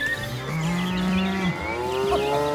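Cows mooing loudly in a long drawn-out low call, mixed with a dense, busy layer of music and other sounds with no speech.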